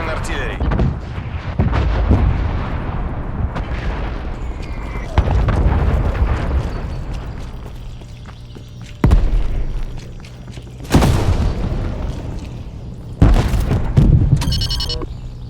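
Incoming artillery strike in Call of Duty Cold War, a series of loud booming impacts arriving at intervals over a rumbling battlefield bed, with game voice announcements running underneath.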